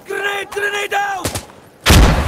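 Gunfire in Insurgency: Sandstorm, with loud close shots and a heavy blast near the end following shouted voices; the firing is sharp and punchy against a noisy battlefield bed.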